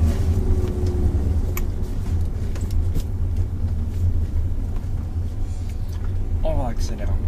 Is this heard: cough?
no